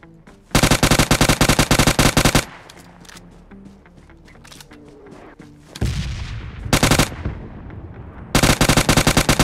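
Rapid automatic gunfire from the video game PUBG Lite rattles in loud, dense bursts, with a long volley at the start, shorter shots midway and another sustained burst at the end, alongside scattered game effects.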